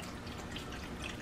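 Chicken broth poured into a pot for cooking rice, a soft continuous liquid trickle and splash heard close but faint and steady.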